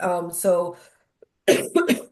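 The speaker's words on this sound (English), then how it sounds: "I came back from Aruba with this cough" A person coughs a couple of times, sharp raspy bursts close up, then a short pause and another cluster of throaty coughs.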